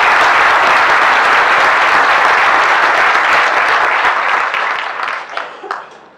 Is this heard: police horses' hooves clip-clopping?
no